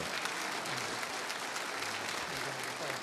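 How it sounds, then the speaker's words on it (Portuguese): Congregation at a Catholic religious broadcast giving a round of applause for a priest, dense continuous clapping from a crowd, steady and even for the whole stretch, moderately distant. "Vamos dar uma salva de palmas para o padre Inácio."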